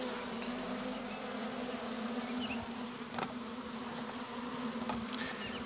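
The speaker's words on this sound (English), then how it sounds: "It's a big old pile of bees." A swarm of honey bees, a big pile clustered outdoors, hums in a steady, dense drone throughout, close and continuous with no talking.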